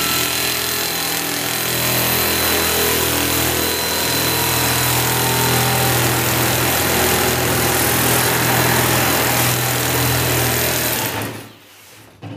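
A power tool cuts a straight line through 18 gauge cold rolled steel with a loud, continuous buzzing rattle that runs steadily before winding down abruptly near the end, no voices.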